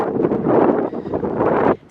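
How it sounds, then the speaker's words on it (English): Strong wind buffets the microphone outdoors in loud, rough gusts, a continuous low roar that drops off abruptly just before the end. "It's very windy out here today."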